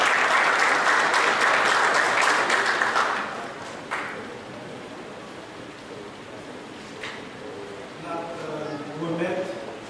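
An audience at a Diaspora Week prize-giving ceremony in Santo Domingo applauds in a loud, dense wash that fades after a few seconds, then a person begins speaking over scattered lingering claps.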